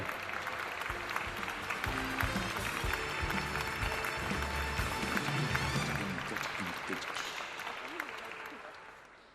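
An awards-ceremony audience applauds steadily, dense sustained clapping filling the hall at moderate level before tapering off near the end.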